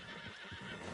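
Horse in the Red Dead Redemption 2 video game letting out a short whinny over hoof clops and ambient game sound, brief and fairly close.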